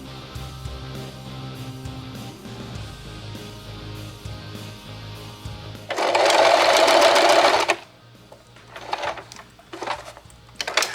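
Sewing machine stitching buttonholes on a hobbit-style LARP cloak, heard as one loud, steady rattling burst of about two seconds, followed by shorter stuttering bursts, with faint background hum before.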